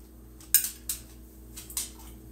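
A utensil stirring salsa in a dish, with a few light clinks and taps against the bowl, close and fairly quiet over a low background hum.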